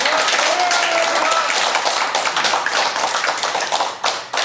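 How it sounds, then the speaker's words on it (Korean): Dense, steady clapping from an audience at an outdoor statement-announcement rally held by a civic justice group, loud and sustained for the whole span with a few whistle-like tones over it. "다시 한번 뜨겁게 크게 박수 한번 부탁드립니다"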